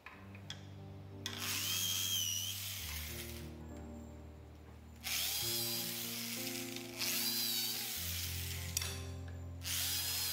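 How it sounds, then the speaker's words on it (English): Power drill boring 4 to 5 mm holes in hollow bamboo splits for furniture joinery, a steady whirring motor whine in several long runs that shift pitch between passes, with brief pauses and faint clinks. "drill 4mm to 5mm drill holes for joinery as demonstrated"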